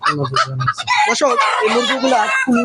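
Chickens of several breeds, including a fighter, Columbian Brahma, Silkie, light Brahma and police cap, crow and cluck loudly at close range, with voices mixed in among them.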